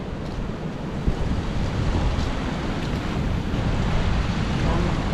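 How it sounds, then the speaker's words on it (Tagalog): Rough surf pounds the Zambales coast in the Philippines just after a typhoon, a loud, steady, unbroken roar of breaking waves mixed with gusting wind buffeting the microphone. "Kaya din galit na galit ng alon."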